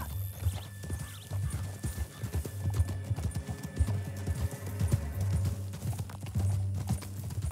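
A horse galloping in Red Dead Redemption 2, with continuous rhythmic hoofbeats carrying on throughout under a low rumbling bed of game sound, fairly close and steady.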